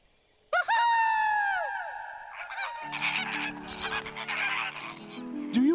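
Cartoon flamingos give a loud, nasal goose-like honk that rises and falls, followed by a busy burst of squawks and chatter over a steady low hum, with another short honk at the end.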